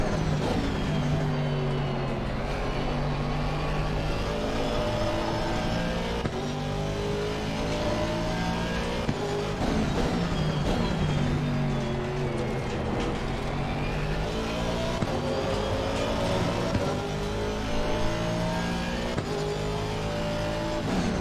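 A Porsche race car in Assetto Corsa Competizione, lapping Catalunya, Spain, revs hard and continuously. The engine note rises and falls as it shifts through gears, loud and close, with occasional tire noise.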